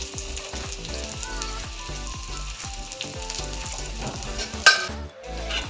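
Onions and chopped garlic crackle and sizzle in a hot pan, with a regular rhythm of stirring scrapes throughout and a sharper utensil clatter near the end.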